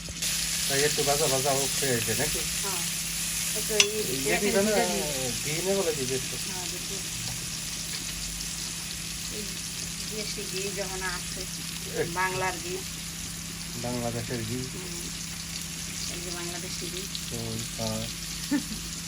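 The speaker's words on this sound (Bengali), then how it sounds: "এই যে আমাদের পেঁয়াজ ভাজি হয়ে গেছে" Onions fry in a pan for a country-chicken bhuna, a steady close sizzle running beneath intermittent conversation.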